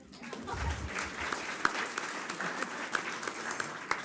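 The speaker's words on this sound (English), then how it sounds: "Let's give Ann a hand." Applause from the audience at a school board meeting, a moderate round of clapping that builds up and continues steadily with distinct sharp claps, heard from a little distance in a room.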